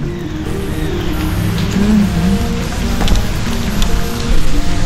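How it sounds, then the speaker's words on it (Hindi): Heavy rain falls steadily on a university campus in Jammu, a dense constant wash of noise close by with a few faint clicks and knocks over it. "बारिश बहुत तेज चल रही है"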